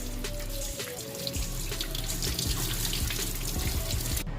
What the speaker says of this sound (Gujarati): તો સૌથી પહેલા પાલકને અહીંયા ધોઈ લેશું।